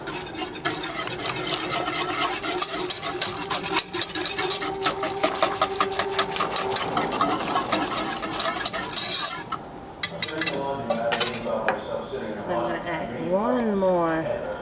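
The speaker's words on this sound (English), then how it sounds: "And then you gotta whisk it." A whisk works flour and butter in a pot on medium-low heat for homemade mac and cheese, scraping in fast steady rhythmic strokes up close, with a person talking over it near the end.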